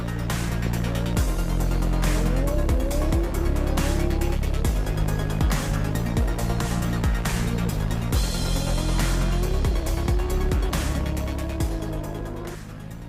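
Combustion-engined Trophée Andros ice racing cars roaring continuously, engines revving up and down in repeated rising sweeps with gear changes, loud and close, fading slightly at the end.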